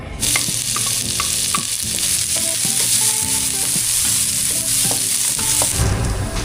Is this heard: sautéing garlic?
yes